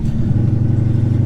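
A cammed Hellcat with a modified exhaust idles loudly up close, producing a deep, steady, throbbing rumble with a choppy, uneven lope that holds throughout without any voices.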